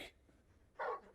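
A dog character in Final Fantasy 16 gives a brief whimpering bark near the end, after a quiet stretch with faint background sound.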